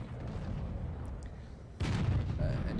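A tank cannon fires a single shell in a video game: one muffled boom lands late in the clip, over a faint, steady background rumble.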